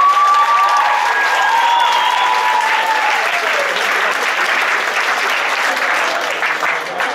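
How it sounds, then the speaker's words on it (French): An audience at a school head-shaving charity gala applauds the participants, steady dense clapping from a full hall throughout, with a few faint whistles and voices mixed in. "j'aimerais qu'on applaudisse encore nos participants"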